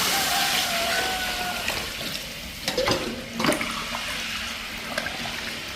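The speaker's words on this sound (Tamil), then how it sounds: "இனிமேல் தண்ணியை சேர்த்துக்கலாம்." Water pours steadily into a pot of chicken curry on the stove, a continuous rushing splash with a few soft knocks and clinks partway through.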